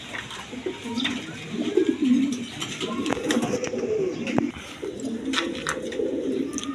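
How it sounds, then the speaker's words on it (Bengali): Quality pigeons in a pair offered for sale, cooing steadily in low repeated warbling phrases up close, with a few brief sharper bird sounds above. "কোয়ালিটি সম্পন্ন কবুতর"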